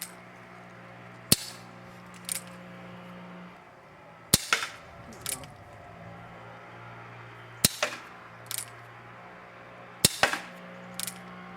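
Sharp snapping shots from an Umarex Single Action Army CO2 airsoft revolver, fired singly with pauses of a few seconds between them, each followed by faint clicks of the hammer and cylinder.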